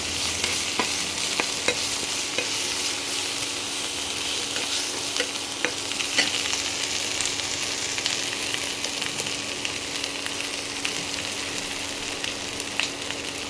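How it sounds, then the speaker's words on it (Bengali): Chana murgh, a chickpea and chicken curry with turmeric and salt, sizzles steadily in a pan while being stirred, with scattered scraping clicks over a continuous frying hiss. "একটু নাড়িয়ে নিই।"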